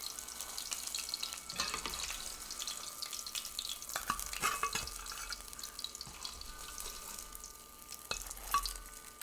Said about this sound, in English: Now, I have a pan that I'm going to put this in. And I already put oil in it.